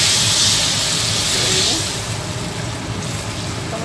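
Loud sizzling hiss as water hits a hot pan of cooked spice paste, strongest at first and then settling into a steadier, softer bubbling hiss.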